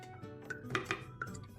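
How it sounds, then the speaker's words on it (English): Homemade digestive tea is poured through a strainer in a kitchen, giving faint, scattered clinks of metal against cup and a few sharper taps close by. "So let's strain our tea here."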